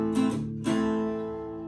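A minor chord on guitar, strummed twice in quick succession and left to ring and fade, close and clear with no talking.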